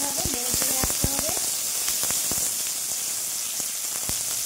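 Capsicum frying in hot oil in a pan, a steady, close sizzle with a few clattering knocks from stirring near the start.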